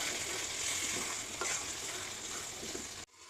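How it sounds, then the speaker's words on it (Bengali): Shrimp fry in oil that has separated from a simmering onion masala, giving a dense, constant sizzling hiss with faint stirring scrapes, close and steady before a sudden stop. "তেল ছেড়ে এসেছে, এখন এই চিংড়ি মাছগুলো দিয়ে দেবো।"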